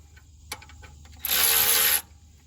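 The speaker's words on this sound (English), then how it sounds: "Break it loose with the ratchet by hand, then I jump on the cordless." A hand ratchet works loose the belt tensioner bolt on a 1979 Ford F-150 engine: a few faint clicks, then one close, loud burst of rapid ratcheting lasting under a second, with no voices.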